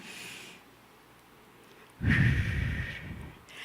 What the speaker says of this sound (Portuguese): Respire, por favor. E expire. Inspira novamente.